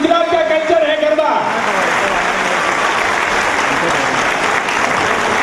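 Loud audience applause breaks out at a Garba cultural event in Baroda, Gujarat, rising over trailing voices and music in the first second, then settling into a dense, steady wash of clapping that continues to the end.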